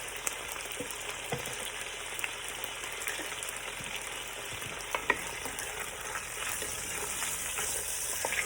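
Potatoes fry in a pan with lemon pepper and Italian seasoning being stirred through, giving a soft continuous sizzle broken by scattered scrapes and clicks of the utensil, fairly quiet and close.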